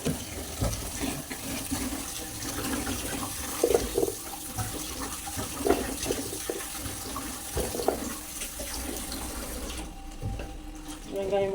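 Water poured over chopped onions to rinse them while cooking drumstick greens at home, a steady running, splashing wash with occasional clatter, fairly close, continuing for several seconds.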